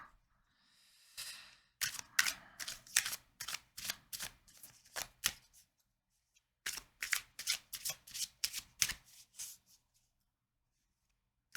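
Tarot cards being shuffled by hand, a short riffle and then two bursts of rapid, evenly spaced snaps and flutters, close and fairly loud, with a brief pause between the bursts.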